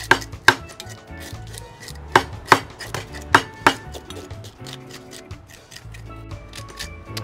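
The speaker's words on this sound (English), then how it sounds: "So you go scrape some nice small red fish here" Small red fish being scaled with a scraper for fish and chips in a Trinidad kitchen, giving sharp irregular scraping strokes and clicks, close and fairly loud, with no talk.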